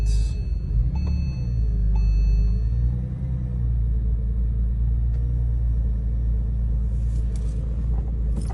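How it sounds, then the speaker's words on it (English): A 2004 Porsche 911 4S with manual transmission idling after start-up, a steady deep low rumble with a smooth engine hum throughout, close and fairly loud, faint chimes and clicks from inside the cabin. "We'll start up the vehicle."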